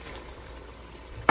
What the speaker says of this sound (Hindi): पानी डालेंगे 5 साढ़े 5 कप